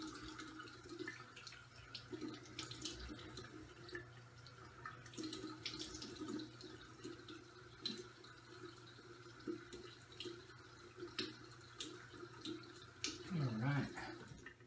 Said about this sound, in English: Got my cold water rinse here.